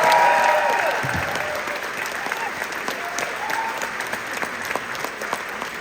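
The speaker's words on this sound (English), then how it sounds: "an extra huge round of applause" Sustained applause from a concert crowd, loud at first and settling into steady clapping with scattered louder claps throughout.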